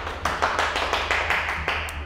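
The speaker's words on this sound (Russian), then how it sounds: "мы думали после аплодисментов" A small group claps steadily for about two seconds, an even run of close hand claps over a low background hum.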